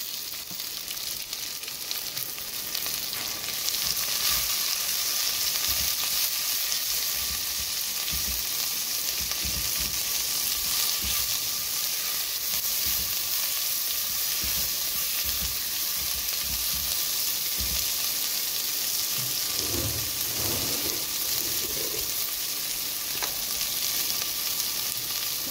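Onions frying in hot oil in a pan while making leafy-greens kichadi, a loud continuous sizzle throughout with brief stirring scrapes near the end, no talk.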